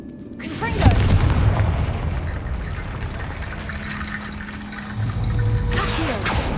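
Confringo fire-blast spell effects in Hogwarts Legacy, two booming bursts several seconds apart, each with a crackling, whooshing tail over a low ambient game background.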